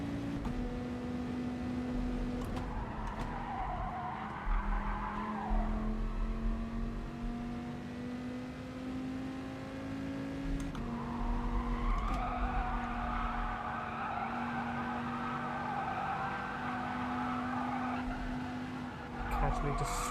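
Race car tyres in GT Sport squealing hard through a corner, a sustained high-pitched screech that rises and wavers over a steady droning engine note, fading briefly before a second long squeal, loud and close.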